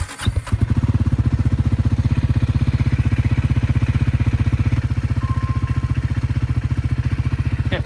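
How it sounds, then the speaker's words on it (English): A Triumph Scrambler 400X single-cylinder motorcycle cranks briefly, catches and settles into a steady, close, rhythmic idle that thumps evenly for several seconds. "I'm going to go ahead and start the bike."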